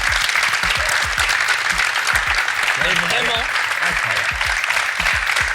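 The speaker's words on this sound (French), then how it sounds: "vous pouvez vous applaudir parce que vous êtes incroyable" Studio audience applause, steady and loud throughout, with a voice speaking French over the clapping.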